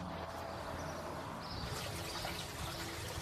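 Water runs from a hose into a roof gutter with a faint, steady trickle and light splashing, continuous and close.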